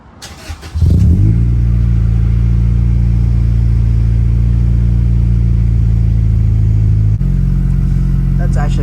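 Acura Integra fitted with a Skunk2 exhaust on its first cold start: the starter cranks briefly, then the engine catches into a loud, steady, deep idle that drops slightly in pitch after several seconds, heard close and alone.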